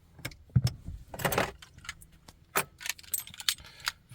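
Car keys jangle in irregular, close clinking bursts, fairly quiet, inside a long-neglected, dusty car.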